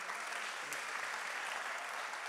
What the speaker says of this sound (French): on peut applaudir quand même ce projet